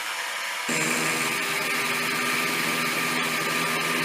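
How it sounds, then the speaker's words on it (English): A milling machine with a carbide end mill starts cutting abruptly, giving a steady, fairly loud whirring grind that continues without pause and with no talking. "I think I'll speed up the spindle speed a little bit. It's a carbide end mill, so it can run pretty fast."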